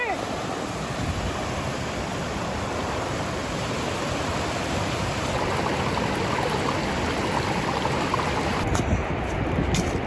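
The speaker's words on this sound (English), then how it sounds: "The current of this river is very powerful in most parts, so it's important to stay clear." Powerful glacier-fed river current rushing near Loen, Norway, a loud, steady broadband roar of churning water that holds constant throughout, close by and with no voices over it.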